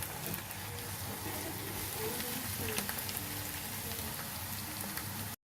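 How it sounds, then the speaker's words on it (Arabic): Chopped onions frying in a pan for an Egyptian omelette, a steady close bubbling and crackling sizzle that continues evenly, with no talk over it. "البصل بتاعي بيبل بالشكل ده، وحسيت انه قرب يخش على الصفار"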